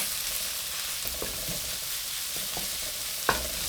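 Pork stir-fries with onion and garlic in a pan, a steady sizzle with a few light scrapes of stirring and one sharp clink near the end, close with no speech.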